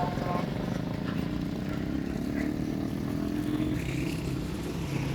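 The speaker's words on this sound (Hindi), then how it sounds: "अब ये जो बाइक आ रही है ना," A motorcycle moves along a busy road in Lahore, its engine a steady drone amid continuous traffic rumble, fairly near and without talk.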